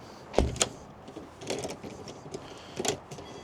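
A WELOCK smart lock unlocks a door after a PIN is entered, with a sharp thump and clack of the latch followed by softer mechanical clicks and rattles, close and with no talking.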